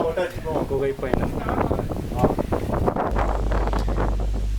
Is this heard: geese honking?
no